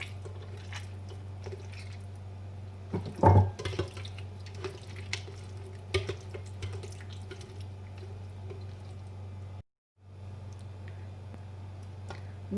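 Water is poured in small amounts while tamarind and plum (aloo bukhara) pulp is strained in a kitchen: quiet trickling, dripping and squishing under a steady hum, with a louder splash around the third second and a short silence near the end.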